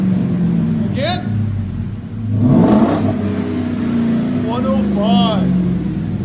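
Ford F-350 with a 7.3L gas V8 and aftermarket X-pipe exhaust, idling with a deep rumble between quick revs and a throttle blip near the middle, fairly loud and close.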